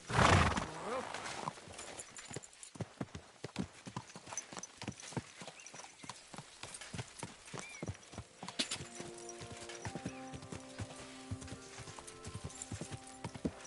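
Horse hooves clip-clopping in the video game Kingdom Come 2, a loud opening burst followed by a rapid, uneven run of hoofbeats with neighs and whinnies mixed in, the sound fairly quiet overall.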